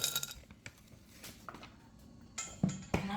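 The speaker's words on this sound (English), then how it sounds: "I'm adding some ice to the glass." Ice cubes clink and tumble into a glass in a few light, sharp knocks, faint and close, with quiet gaps between them, while a Jamaican sorrel drink is being served.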